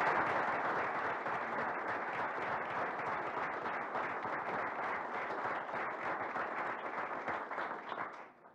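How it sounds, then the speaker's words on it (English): Audience applause at a university board of regents meeting, a dense, steady wash of many hands clapping that holds for several seconds before tapering off at the end. "Let's give an early round of applause"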